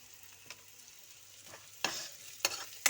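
Paneer bhujiya with chili powder, cumin powder and salt being stirred in a pan, a soft background sizzle broken by a few sharp spoon scrapes and clacks, the strongest near the end.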